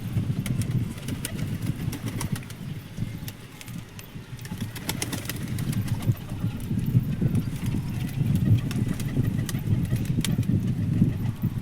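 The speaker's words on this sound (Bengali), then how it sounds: "খুব ছটপটে পায়রা আছে।" Pigeons in a pigeon loft coo and shuffle with scattered wing flutters, set against a steady low hum of engine noise in the background.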